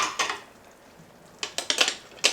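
Metal pot and lid clatter in a home kitchen as a heavy, food-filled cooking pot is handled with a detachable handle, a couple of clinks early, a quiet gap, then a quick run of sharp close knocks.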